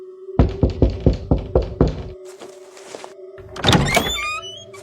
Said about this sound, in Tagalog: may naririnig kaming kumatok mula sa labas